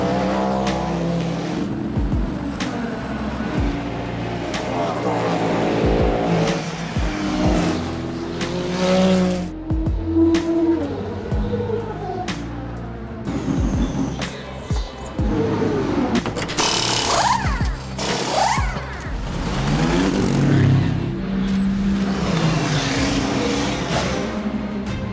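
Ferrari hypercar and other race cars at Imola during the WEC 6 Hours, engines roaring and passing continuously with revving, gear changes and occasional tire squeal, loud and sustained.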